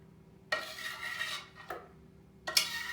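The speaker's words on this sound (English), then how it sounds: "Because this stuff is thick, so we just scrape it out of there." A metal knife scrapes thick screen-printing emulsion out of a container in three close, rasping strokes, each a short scratchy drag against the rim with brief pauses between.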